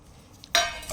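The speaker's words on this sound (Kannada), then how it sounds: "ಇದು ಒಂದು ಪ್ಲೇಟ್ ಹಾಕ್ತೀನಿ." A plate is set down with a single bright clink. Its short ringing tail rises sharply from a quiet background and fades within half a second, followed by a faint second touch.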